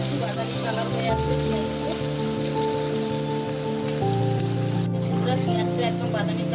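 Small-chopped onions browning in hot oil for chicken kosha, a steady crackling sizzle like rain on a surface, close and constant, under a low humming musical background.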